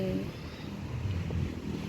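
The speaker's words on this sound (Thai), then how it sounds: "เป็นเรือประมงเนาะ" A fishing boat out at sea off Jomtien Beach at night gives a low, distant engine drone, heavily buried under steady wind buffeting the microphone and the wash of waves.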